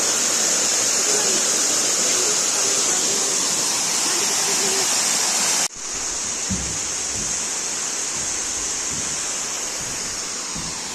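Steady broadband rush of water at Curug Cakrawadana waterfall, loud and continuous throughout, with a brief dip midway and some low thumps afterward; a faint voice is barely present.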